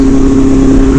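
A Yamaha FZ1 naked street bike's inline-four engine with a full exhaust drones loud and close in a brief steady burst, a strong constant tone with no voices.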